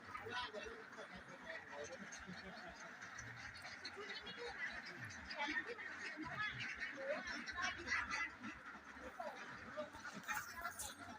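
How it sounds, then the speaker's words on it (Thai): Laying ducks in a pen splash and flap their wings in water while honking and quacking, a busy, moderately close chorus heard under someone talking. "เป็ดมันชอบเล่นน้ำ มันก็สะบัดปีกเล่นน้ำอยู่นะครับ"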